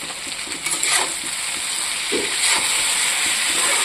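Turmeric, cumin powder and dry red chili powder fry with mixed vegetables in a pan, giving a steady, bright sizzling hiss that runs unbroken and fairly close throughout.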